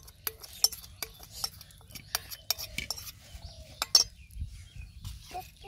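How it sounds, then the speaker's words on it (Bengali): A spoon clinks and scrapes repeatedly against a bowl while fuchka chaat filling is mixed, the sharp taps coming in an irregular rhythm over a low background murmur. "সবকিছু ভালোভাবে মিশিয়ে নেই"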